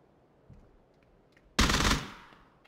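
Gunfire in the battle royale game PUBG: a faint distant shot, then a single loud, close burst of fire that decays over about half a second into quiet.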